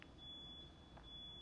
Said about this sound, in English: my god, that beeping is incessant